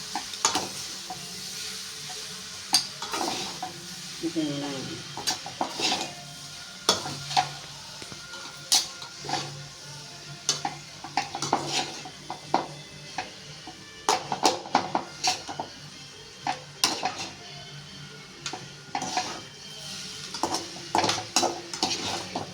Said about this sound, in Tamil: பாருங்கள் ஃப்ரெண்ட்ஸ், சாப்பாடு போட்டு நல்லா கலரணும் ஃப்ரெண்ட்ஸ்.